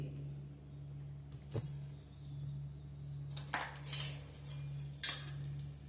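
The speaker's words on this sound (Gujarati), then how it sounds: "ગેસ ચાલુ કર્યો હવે કડાઈ મૂકી" A few metallic clanks and clinks as a kadai is set down on a lit gas stove, over a steady low hum.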